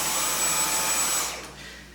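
A lightweight cordless stick vacuum runs with a steady high-pitched whine and airy rush, fairly loud and close, then winds down as it switches off near the end.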